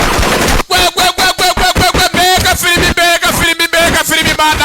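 Rapid machine-gun bursts and gunfire crackle through an action film soundtrack, loud and dense in quick repeated volleys, with music and effects layered underneath.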